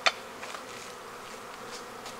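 Inside an opened winter beehive, honey bees give off a soft continuous buzz, starting with a sharp click and a few light knocks over the hum.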